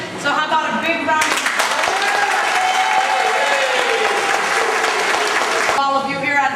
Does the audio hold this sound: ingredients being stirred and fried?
no